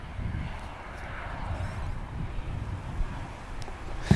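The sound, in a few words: aircraft at Manchester Airport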